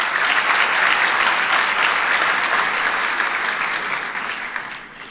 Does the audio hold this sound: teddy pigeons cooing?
no